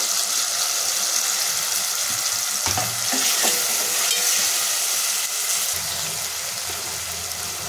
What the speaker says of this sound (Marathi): त्याच्यामध्ये आपण 2 मोठे कांदे चिरून घेतलेले ते टाकून घेऊया